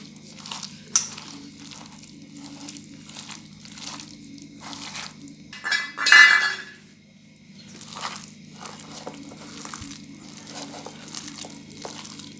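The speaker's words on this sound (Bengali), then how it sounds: "এইভাবে সমস্ত মিশ্রণকে ভালো করে মেখে নেব" Sliced onion being mixed by hand into a gram flour batter for pakoda, giving soft, wet squishing and crunching bursts in an irregular rhythm, close and fairly quiet, with one louder squelch midway.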